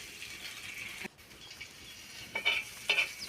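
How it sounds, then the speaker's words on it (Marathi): Amli fish fry on a tava griddle while being turned, giving a soft, low sizzle and a few spatula scrapes and clinks near the end, quiet and close, with no talking. "असेच आपल्याला बरेच वेळ असे आंबळी मासे हलवीत राहायचे आहे"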